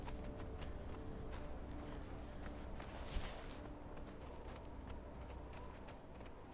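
A horse walks in the video game Conan Exiles, its hooves clip-clopping in a steady rhythm close by over a low ambient game bed, with a brief louder knock midway.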